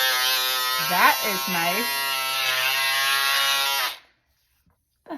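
Black & Decker cordless electric scissors cutting paper give a loud, steady buzzing whir that runs for about four seconds and then cuts off, with a voice speaking over the motor.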